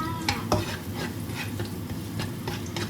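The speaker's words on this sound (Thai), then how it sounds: "ตอนนี้เราก็ มาผัดกะเพรากันเลยค่ะ" Pork and garlic stir-fried for a Thai holy basil dish, with a steady sizzle in the pan and repeated scraping stirs of the utensil against the pan, close and continuous.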